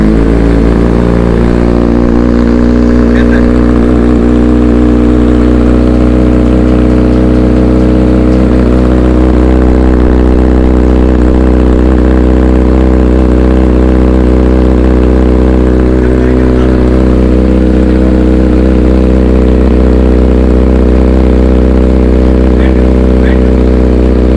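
A Kawasaki Ninja ZX6R fitted with an SC Project aftermarket exhaust runs with a deep, heavy, constant engine drone, very loud and close. It holds steady throughout, with only slight swells in pitch.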